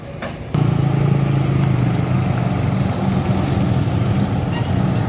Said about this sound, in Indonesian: Bus Akas jurusan Madura Surabaya memasuki terminal Surabaya